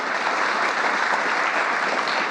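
Audience applause at a White House press briefing, a steady wash of clapping from a crowd that holds at an even level throughout without any voices on top.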